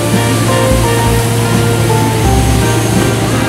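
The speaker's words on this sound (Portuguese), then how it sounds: "Com água e tudo, jogando água em todo mundo." A street sweeper washing the pavement with water near the Louvre in Paris, a loud, continuous rushing spray with a steady low rumble and no voices.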